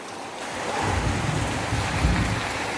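A low, deep rumble of thunder rolls in and swells twice over a steady wash of heavy rain and wind during a lightning storm.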